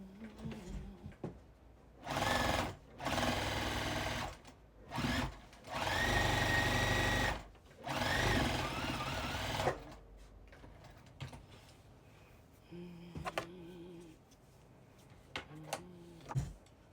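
A sewing machine quilts straight lines on a heart-shaped Valentine mug rug, running in several loud bursts of a few seconds each, separated by pauses and softer handling noises.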